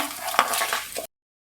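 Lentils and asafoetida fry in a hot pan, giving a close, steady sizzling hiss with a few stirring scrapes for about a second before it stops abruptly.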